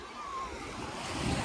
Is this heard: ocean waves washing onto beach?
yes